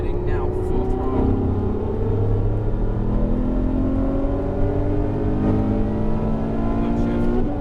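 A Ferrari F12 engine roars at full throttle on a racetrack at Dream Racing, a loud continuous drone with rising pitch as it accelerates, heard from inside the car with a driver's voice talking over it.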